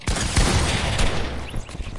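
Gunfire in a video game, with a sharp shot at the start followed by a dense, noisy stretch of further shots and impacts, loud and close with no talk.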